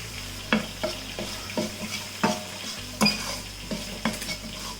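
Tomato stirred into a hot frying pan with spices and salt, repeated sharp spatula knocks and scrapes against the pan over a continuous sizzle, close and alone.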